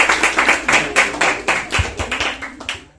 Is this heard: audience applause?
yes